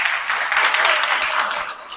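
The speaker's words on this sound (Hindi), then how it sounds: "अगर आप सब खैरियत से हैं तो अपने लिए जोर से तालियां बजाइए जरा।" An audience claps loudly at a live talk-show event, a dense, steady burst of applause that carries on for about two seconds before tapering off.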